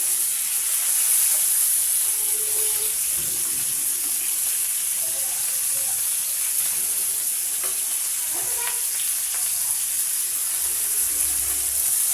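Fish fry in hot oil with a steady, dense hiss and sizzle that runs throughout, close and continuous, with faint scraping and clinks from turning the pieces.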